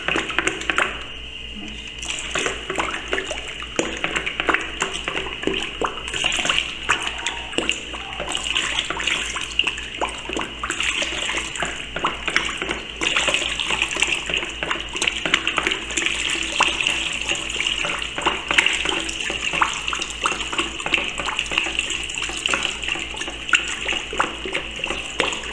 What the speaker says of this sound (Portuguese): Colocando aos poucos e mexendo.